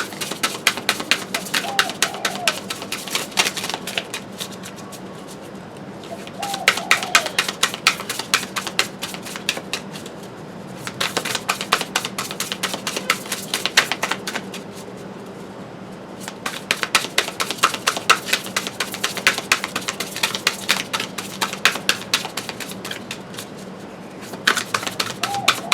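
Repeated bursts of rapid tarot card riffling and flicking, close up, separated by quieter pauses with faint low talking.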